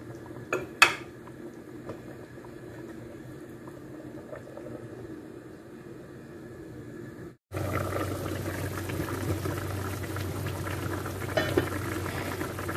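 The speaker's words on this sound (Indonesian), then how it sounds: "tambahkan air panas, biarkan mendidih, dimasak kira-kira 10 menit ya" Water bubbles and simmers in a pot of chicken curry, quiet at first, then louder and fuller after a cut, with a faint clink of cookware.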